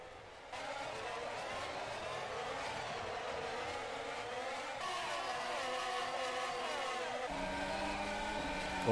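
Formula 1 cars from the 2021 season in rFactor 2 race through the Monaco hairpins, engines whining and shifting pitch as they brake and accelerate, a continuous close onboard drone with no talk.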